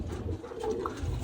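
Shirazi pigeons kept indoors coo softly nearby, a low throaty murmur lasting about a second in a quiet room.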